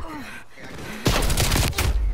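Rapid LMG fire in the Black Ops Cold War video game, a sudden loud sustained burst erupting after a quiet moment and continuing to the end.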